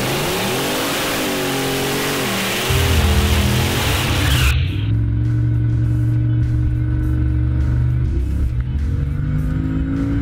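Drag race car with a GT45 eBay turbo on 10 pounds of boost and pump gas revving hard, a loud rising engine sweep that cuts to a sustained heavy drone, then steady idle-like rumble.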